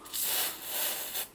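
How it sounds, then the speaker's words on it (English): A short hissing spray of oil into a Singer 190 sewing machine, two or three quick bursts close by, soft and breathy with brief pauses between them. "Just a wee spray there"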